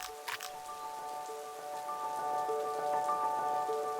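Rain falling steadily as a soft patter, with sustained musical tones running underneath throughout and a couple of brief brighter taps near the start; no one speaks.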